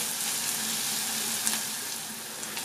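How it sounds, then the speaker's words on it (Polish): Minced-meat zrazy fry steadily in a hot pan, a constant crackling hiss with a few small pops. "No i smażymy."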